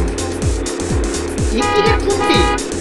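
Cartoon cars race and overtake one another, with a steady loud engine drone, repeated swooping passes and a short horn toot near the end.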